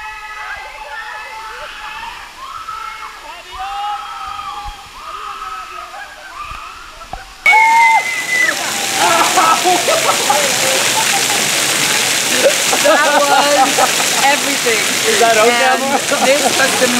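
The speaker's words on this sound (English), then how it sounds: "The whitewater rapids. Yeah, this is really intense." Whitewater rapids at a water park surge in with a sudden loud, continuous rushing splash roar. Chirpy voices come before it, and voices continue beneath the water.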